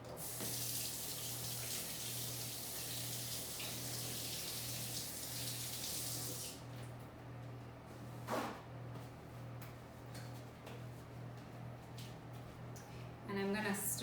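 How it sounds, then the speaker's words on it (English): Hands washed under a running kitchen tap while baking banana bread, a loud steady hiss of water for about six seconds, then the tap shuts off, leaving quieter clatter, a thump and brief splashes. "I'm gonna wash my hands real quick"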